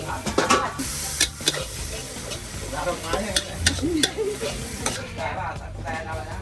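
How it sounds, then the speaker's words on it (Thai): Cabbage stir-fried in a wok at a seafood restaurant kitchen, with continuous loud sizzling and repeated scraping strokes of the spatula against the pan, plus faint background voices. "ผัดกะหล่ำปี"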